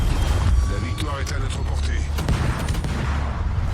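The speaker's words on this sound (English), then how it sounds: "Put some shots into him because why not?" Naval gunfire from battleships in a video game, with rapid booming salvos and muffled explosions popping under continuous game noise; a player talks over it.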